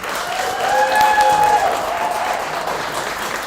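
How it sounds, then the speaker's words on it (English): A crowd applauds election candidates at a student union results day, a dense, steady round of clapping that swells slightly in the middle and carries on evenly to the end. "I just want to give a massive, massive round of applause to all the candidates."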